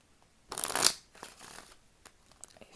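A deck of cards is riffled in one quick burst, followed by softer shuffling and tapping as the cards are squared up.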